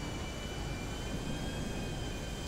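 A steady, loud jet airplane roar from GTA 5 fills the whole stretch as one continuous whooshing drone with a faint high whine, with no talk over it.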